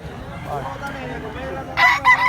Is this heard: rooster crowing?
yes